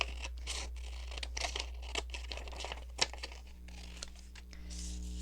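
Scissors cut folded paper for a junk journal envelope pocket, close crisp snips mixed with crinkling and rustling, one sharper cut standing out, over a low steady hum, with no speech.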